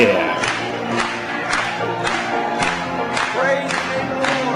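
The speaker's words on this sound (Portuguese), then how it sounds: "batamos palmas para ele hoje à noite" A church congregation claps in a steady rhythmic beat, roughly one strong clap per second, loud and close over the voices of many people singing or calling out together.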